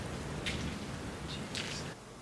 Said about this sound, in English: They said the rain should be done in like 10 minutes